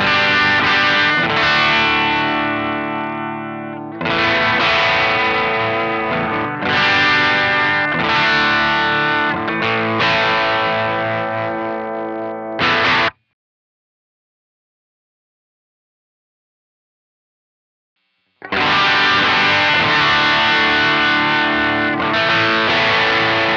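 Loud electric guitar chords through a JHS Kilt distortion capture on a Tone Factor unit ring out in sustained, saturated strums, stopping for a few seconds of silence before resuming.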